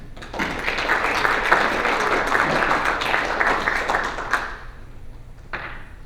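An audience applauds to welcome a speaker at a Golden K Kiwanis club meeting in Decatur, a steady wash of many hands clapping that fades out after about four seconds, with a brief trailing clap afterward.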